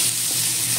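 Garlic sizzles in a hot pan with udon and bell pepper, a brief, steady close frying hiss with a faint scrape of stirring.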